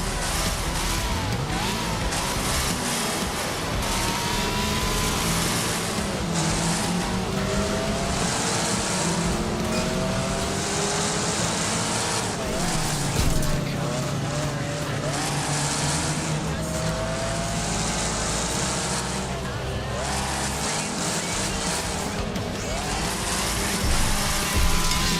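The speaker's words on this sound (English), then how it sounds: "Wreckfest is a destruction derby game" Cars racing and crashing together in the destruction derby video game Wreckfest, with roaring engines, tire squeals and thumping impacts running continuously beneath a voice talking over the action.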